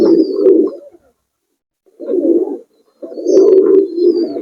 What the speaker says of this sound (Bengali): এদিকে আরো এক জোড়া কবুতর আছে